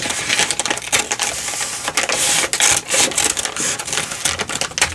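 Scissors snip and slice through paper for a large mixed-media envelope, giving a close, busy run of crisp cutting and rustling sounds with no talk.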